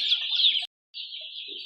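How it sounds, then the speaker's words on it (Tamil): Chickens on a poultry farm housing about 3000 birds cluck and squawk close by in two bursts separated by a brief silence, with no talking. "இது வந்து 3000 கோழி இருக்குது இதில்."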